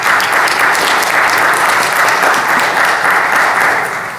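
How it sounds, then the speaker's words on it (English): Dense, sustained applause from a church congregation on Senior Adult Sunday, loud and close, a steady wash of many hands clapping without pause. "Let's give them a round of applause."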